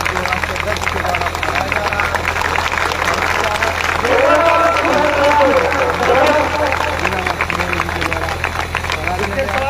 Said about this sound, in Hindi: जोरदार ताली से स्वागत करेंगे आप लोग